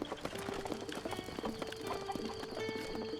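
Wild horses in The Legend of Zelda trotting with rapid, close clip-clop hoofbeats in an uneven rhythm, joined by a brief whinny, moderately loud, with no speech.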